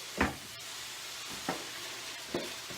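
Pork and honey sizzling in a pan while the bottom is scraped, three distinct scraping strokes spaced about a second apart over a steady, fairly quiet frying hiss.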